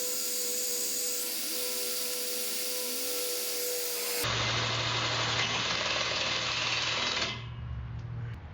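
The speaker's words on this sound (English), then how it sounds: "I'm going to center punch them and drill them out." A high-pitched whine of a drill boring holes in steel plate runs steadily, then shifts to a louder grinding, rough cutting sound before easing off near the end.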